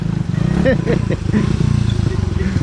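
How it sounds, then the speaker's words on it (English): Postie motorbikes riding the old Telegraph track, their small engines putting and revving unevenly close by, with someone talking over them. "Just a couple of lads doing the old Telegraph track on a couple of postie bikes."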